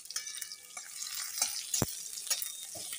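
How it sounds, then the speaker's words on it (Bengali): Eggplant pieces hitting hot oil in a home kitchen pan, a soft crackling sizzle with a few sharp pops and stirring scrapes, close but quiet, no voices. "তেলে এবার প্রথমে বেগুন দেওয়া হচ্ছে"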